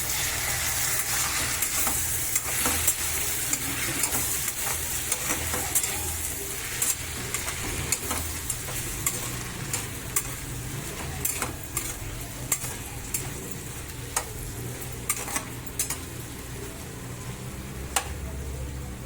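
Potato curry is stirred in a pan over a steady bubbling sizzle, with repeated sharp clicks and scrapes of a utensil against the metal rising above the constant frying hiss.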